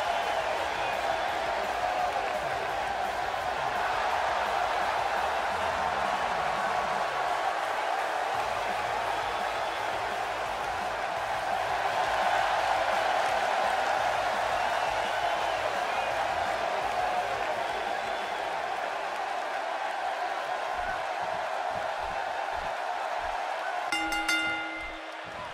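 A large wrestling crowd roars and cheers steadily from a distance in a WWE video game, a sustained wash of noise that dips briefly near the end.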